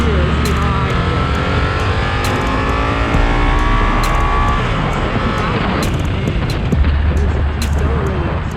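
A Harley-Davidson Nightster 975 motorcycle pulls hard in first gear, its engine note climbing steadily and loudly with wind rush, and a sharp drop in pitch near the end as the throttle eases.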